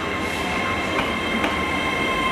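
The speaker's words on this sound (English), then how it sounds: "This one by you is the Taunton train coming into Cardiff." The Taunton train pulls into Cardiff with a loud, steady rolling rumble and a faint high wheel squeal. Soft rail clicks are heard near the track, with no talking.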